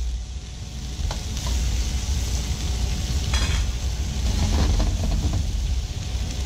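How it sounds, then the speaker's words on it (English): Asparagus and other vegetables stir-fry in a hot pan with a continuous close sizzle and low rumble, broken by occasional scraping and tossing as they are stirred. "Now what we want to do is stir fry these until they are beautiful."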